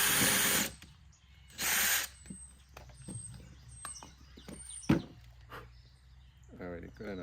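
A power drill with a 1/2 inch bit bores into wood for a carpenter bee trap, two short loud whirring bursts followed by quieter handling clicks and knocks.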